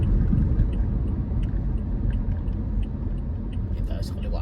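Road traffic rumbles steadily from inside a moving car in Saudi Arabia on a Friday drive toward Riyadh, a low continuous engine and tire drone with faint voices now and then.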